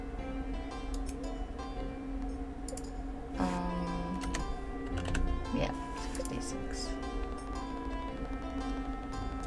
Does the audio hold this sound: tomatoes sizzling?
no